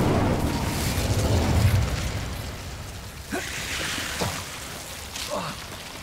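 A fiery whoosh and rumbling crackle from the Incendio spell cast in Hogwarts Legacy, a broad roaring burst that fades into lighter crackling with a few sharp pops near the end.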